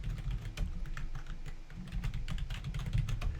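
Rapid typing on a computer keyboard while entering an email address and password, a dense run of light clicking keystrokes at close range with brief pauses, no voices.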